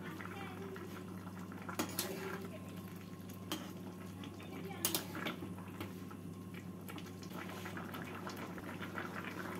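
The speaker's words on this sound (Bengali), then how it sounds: "ভালো করে সবজির সাথে মিশিয়ে নেব" Rice flour being mixed into a simmering vegetable curry in a pot, heard as a low bubbling boil with soft stirring and a few sharp clicks of a spoon against the pan, fairly quiet.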